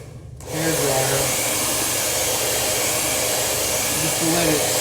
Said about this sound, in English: And then I always like to hit it briefly with a hairdryer